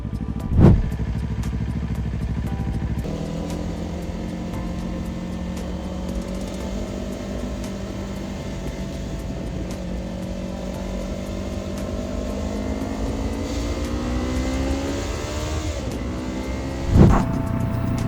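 Motorcycle riding through rain, its engine a steady low drone with rising and falling pitch as it rolls along, broadband road and wind noise throughout, and two brief loud bumps near the start and end.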